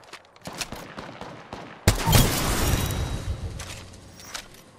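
In an Apex Legends match, sparse sharp shots give way to a sudden loud burst of rapid gunfire that rattles on and slowly fades.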